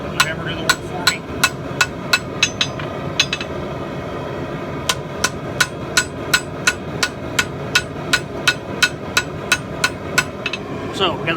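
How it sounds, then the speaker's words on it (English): Steady, evenly spaced metallic hammer strikes ring out on an anvil as hot steel from a farrier rasp is forged into a tomahawk, dozens in a row with a short pause partway through. "Nice gentle blows. Let the hammer do the work for me."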